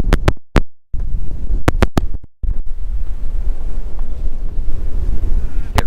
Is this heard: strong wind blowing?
yes